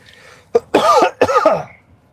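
Two or three harsh, loud coughs directly into a close microphone, short bursts in quick succession with nothing else around them.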